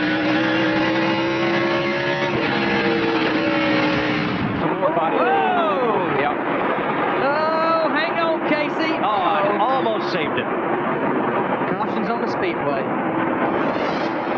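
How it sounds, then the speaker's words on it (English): NASCAR Busch Series race cars roar around Bristol as one car spins, engines loud and droning, then warbling, rising and falling pitch sweeps as cars pass and the field slows, with a commentator talking over it. "Here's a car spinning around."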